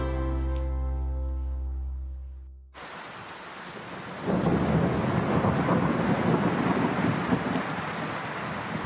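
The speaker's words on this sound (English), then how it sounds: "We've been longing for rain, so it's wonderful to have rain." A heavy rain cloudburst falls on a garden, starting abruptly as a dense hiss that grows louder and fuller a few seconds later, preceded by a low rumbling tone like distant thunder.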